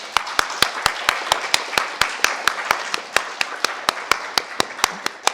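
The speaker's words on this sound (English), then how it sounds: "I think they deserve a little round of applause." Round of applause at an arts and humanities festival, led by one close, loud, sharply regular clapper whose evenly spaced claps sit over a softer spread of clapping from the crowd.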